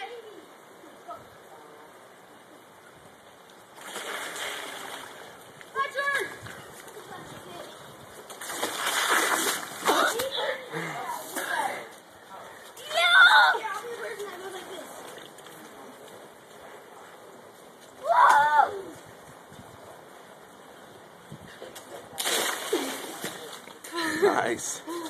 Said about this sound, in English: Come all the way down, Alex, to the big splash